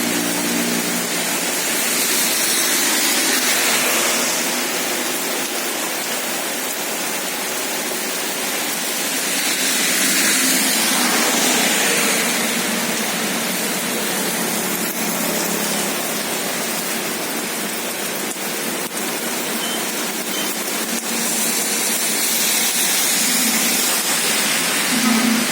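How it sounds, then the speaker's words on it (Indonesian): A morning downpour of heavy rain driven by strong wind roars loudly and without pause, rising and falling in gusty waves of broad hissing noise. "hujan sama anginnya"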